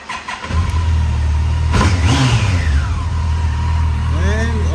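A 2006 Yamaha FJR1300A motorcycle engine cranks and catches, settles into a loud steady idle around 1250 rpm, then revs up and down a few times close by, with brief talk audible.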